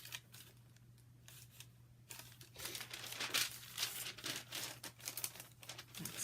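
Scissors cut along the seam of a paper bag, with close crinkling and snipping that grows louder and busier partway through, over a faint steady hum.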